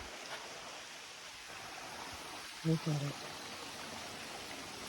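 A crystal clear, ice-cold stream flows through woods in Puerto Rico, a soft, steady rushing wash, with a brief spoken phrase partway through.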